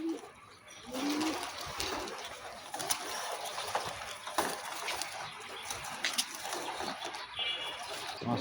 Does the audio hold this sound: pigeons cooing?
yes